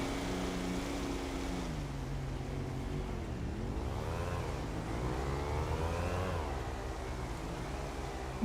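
A motorbike engine in a role-play video game revs steadily, its pitch swooping up and down in waves over a constant loud drone, with no talking.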